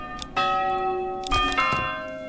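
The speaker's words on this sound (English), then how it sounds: "pretty nice bell, different bell options here" A church bell in the medieval city builder Manor Lords rings twice, each strike a loud metallic clang with a long, humming resonance that lingers and overlaps the next.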